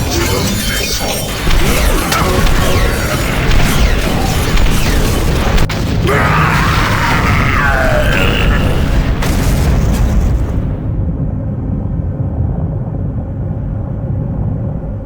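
In Doom, a missile blasts amid a dense, continuous roar of explosive booms and crashing debris that stays loud throughout, then cuts off abruptly into a thinner low rumble near the end.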